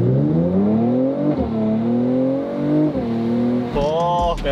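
A Mercedes-AMG engine revs close by, a deep, rough roar rising and falling in pitch across several throttle blips, ending in a sharper climbing rev.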